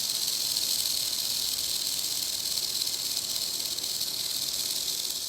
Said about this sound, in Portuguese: As cascavéis utilizam desse som para alertar da sua presença.